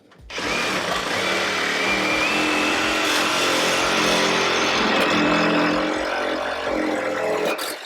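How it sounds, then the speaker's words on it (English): Reciprocating saw cutting into a 1968 Volkswagen during disassembly, a loud continuous buzzing rasp that starts abruptly, holds steady for about seven seconds, then stops. "About to meet the reciprocating saw."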